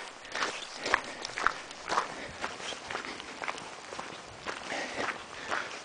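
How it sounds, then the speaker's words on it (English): Footsteps walk steadily outdoors on quiet rural land, crunching irregularly about twice a second, close and fairly soft, with little else around. "You can hear yourself walking."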